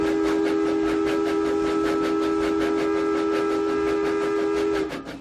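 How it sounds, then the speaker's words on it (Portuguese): A lit train whistles steadily as it passes in the opposite direction, a loud sustained steam-style whistle tone over rhythmic rail clatter, cutting off near the end. "E apitou, vindo em sentido inverso,"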